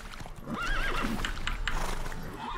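A horse whinnies with a rising and falling call while hooves clop alongside, a clear game-style effect from The Witcher 3: Wild Hunt with no talking.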